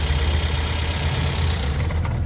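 A 2016–2019 Toyota Corolla with a check-engine fault idles steadily up close, a low continuous engine rumble with no clear shutdown heard in the short span.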